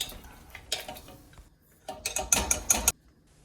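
A utensil scrapes and clanks against a pot while black beans are mashed, with a few scattered knocks first and then a quick burst of rhythmic metallic scraping before it falls quiet, with no talking.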